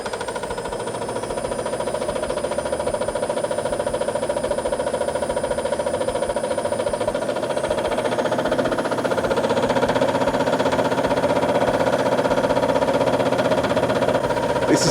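An empty washing machine drum spins up with a steady mechanical whir and hum that rises gradually in pitch and loudness as it gains speed, with no voices.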